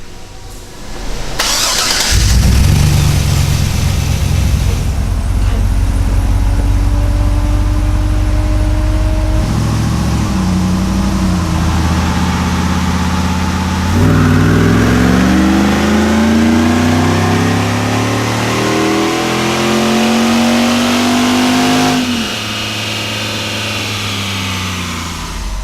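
A 2016 Jeep Wrangler JKU on a dyno fires up and then climbs through a long, loud rev, pitch rising steadily under load before dropping back to a lower idle near the end; no talking.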